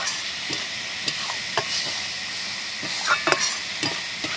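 A fish head and spring onion stalks fry in a pan, a steady close sizzle overlaid with soft, regular stirring scrapes and occasional clinks, with no voices.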